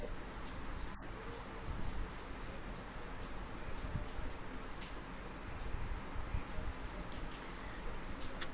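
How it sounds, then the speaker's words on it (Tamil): Heavy rain falls steadily as a dense, continuous hiss and patter throughout, with one brief sharp tick near the start and no voices. "it is heavily raining"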